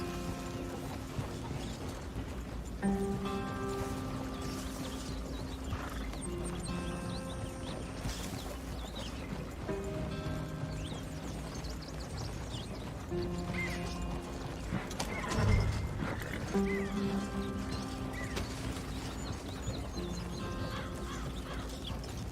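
Horse hooves in Red Dead Redemption 2 clop steadily under layered game music and ambience, with a brief snort and a louder thump midway.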